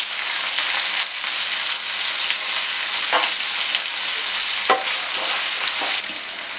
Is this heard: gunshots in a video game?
no